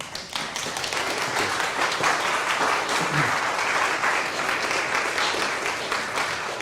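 Audience applause welcoming a lecturer at an academic talk, a sustained dense clapping from a seated crowd, steady and fairly loud for several seconds before fading slightly.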